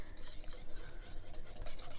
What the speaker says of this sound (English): You'll want to take a wire whisk and mix all this well